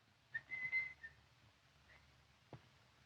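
A man whistling a few faint, thin notes in an old 1944 mystery film, a brief wavering tune then a lone short note, quiet and distant with no talk.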